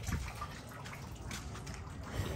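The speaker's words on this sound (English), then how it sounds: "I'm gonna rinse it out with some regular water" Water runs steadily over bleached fabric as it is rinsed, a continuous trickling splash at close range with no talk over it.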